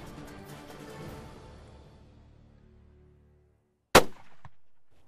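A single sharp, loud rifle report from a Winchester Model 70 fired at a whitetail buck on a Texas hunt, cracking out after a fading low rumble and a brief near-silence, followed by a short echoing tail.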